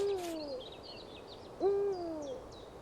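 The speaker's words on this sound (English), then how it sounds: "Eurasian eagle owl." A Eurasian eagle owl gives two deep, clear hoots, one at the start and a louder one partway through, close and alone over faint background hiss with some higher chirps.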